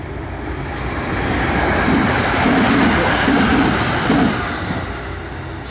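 NJ Transit commuter train from Gladstone to Hoboken passing Mountain Station in South Orange, New Jersey, a loud continuous rushing rumble with a brief tonal hum in the middle.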